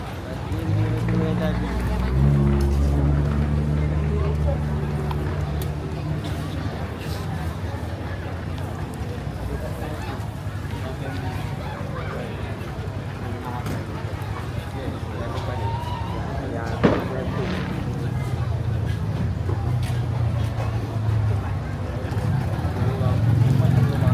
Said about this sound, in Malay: Dekat sini pun kereta lalu lalang.